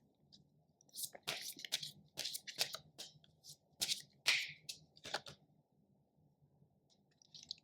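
Tarot cards shuffled and picked by hand, giving a string of short papery snaps and riffles in irregular bursts, close and fairly quiet over a low hum, with no talking.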